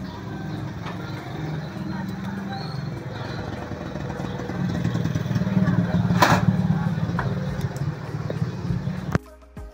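A Kawasaki Barako motorcycle engine runs with a steady low rumble that swells slightly midway and cuts off abruptly near the end, with a voice talking over it.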